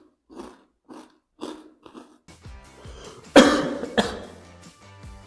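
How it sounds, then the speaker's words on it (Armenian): A run of short, sharp coughs from someone eating spicy chips: a few quieter throaty bursts first, then two loud, harsh coughs close to the mic, mixed with faint chewing. "9-րդ վարկերին հազացել ես"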